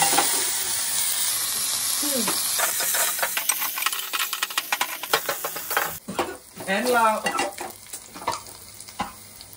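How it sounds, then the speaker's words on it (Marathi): Coriander and asafoetida hit hot oil in a tadka, producing a loud continuous sizzle with rapid stirring scrapes and clinks of the spoon against the pan, while someone talks over it. "थोडीशी कोथिंबीर पण टाकते, हिंग टाकते, हलवून घ्या।"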